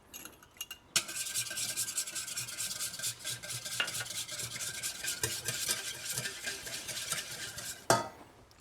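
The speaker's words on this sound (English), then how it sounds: "Once the eggs are in, you need to start stirring," Eggs whisked with vinegar and saffron for a saffron hollandaise: a steady, close scraping and stirring runs almost without pause for about seven seconds, with faint clinks and no voices.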